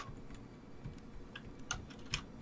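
Faint, sparse ticking sounds in the game GTFO: a few soft, sharp clicks at uneven intervals over a low, murky ambient hum.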